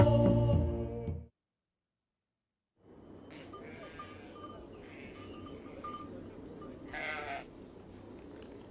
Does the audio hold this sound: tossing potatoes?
no